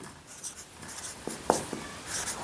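Chalk or pen writing math on a board during a Hindi-medium class 10 geometry lesson, heard as faint scratchy strokes with a few brief taps in a quiet room, no voices.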